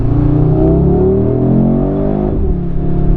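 An Audi RS3 engine revs up loudly and steadily in dynamic mode, climbing in pitch for a couple of seconds before dropping back and rising again, close and continuous.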